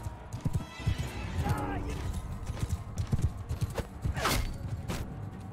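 Horse hooves clip-clop in the medieval combat game Mount & Blade II: Bannerlord, with a horse neighing and whinnying partway through, all over steady battle noise and a talking player.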